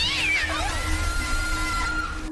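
A white cat gives one clear descending meow, close and fairly loud, over a low steady hum, with a faint tonal trailing sound after it.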